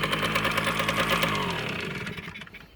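A KM100 generator engine runs steadily after its first start of the season following storage, a dense, continuous mechanical drone with a rapid firing pulse that softens slightly toward the end.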